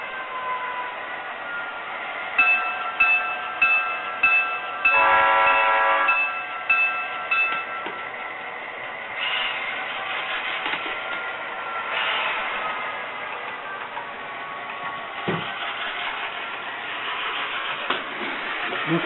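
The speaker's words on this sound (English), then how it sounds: "there goes the train" A model railroad train horn sounds in several short blasts and a long one, then the model train rumbles and clatters past steadily.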